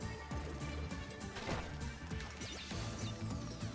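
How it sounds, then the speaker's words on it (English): Explosives going off and smashing steel crates in Crash Bandicoot: Wrath of Cortex, a busy run of crashing, clanking impacts amid game music and effects, fairly quiet overall. "set off these explosives so that we can break those steel crates"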